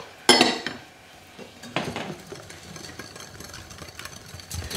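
A spoon or whisk mixing cake batter with melted butter and cream in a bowl, starting with a loud clatter against the bowl, then a second scrape and softer, steady stirring noises.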